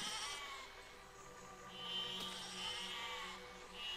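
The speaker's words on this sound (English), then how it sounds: "The sheep are just exploding, some of them for no reason." Sheep bleating in the physics-building game Besiege, where the animals explode; harmonic bleats recur across the clip amid a bright, busy game soundscape, with a sharp burst near the middle and no talk.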